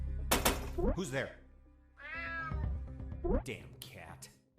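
A cat in the stealth video game UNMETAL meows several times, drawn-out and whining, close and clear, with game sounds and a spoken voice mixed in between the calls.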